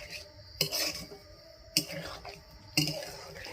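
A spoon scrapes and stirs Bengali-style cauliflower roast with ghee in a pan. Three distinct scraping strokes sound close and fairly quiet, separated by soft pauses.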